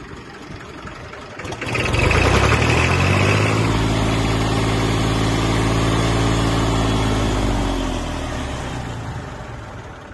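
A heavy old tractor engine rumbles steadily after starting up at an auction, loud and close, with a deep chugging idle that holds for several seconds before easing slightly.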